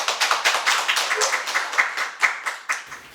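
Audience clapping at a political academy lecture, welcoming a senior political journalist to the first session: a steady run of many hands, fairly close and even, for a few seconds, then tapering off.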